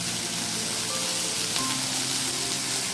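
Spice paste for a rohu fish curry, with okra and pointed gourd added, sizzles in hot oil in a pan: a steady, close, continuous frying hiss without pause.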